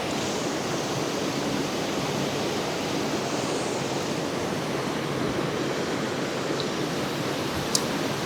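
Several waterfalls at the Fairy Pools on Skye pour in a continuous, loud, broadband rush of water, steady throughout, with a tiny click near the end.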